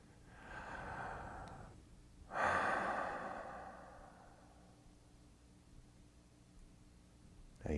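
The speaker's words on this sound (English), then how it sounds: "Put your mind on your breath." Two slow, relaxed breaths during a breathing exercise for managing tension: a long airy inhale, a pause, then a fuller drawn-out exhale fading gradually, close to the listener.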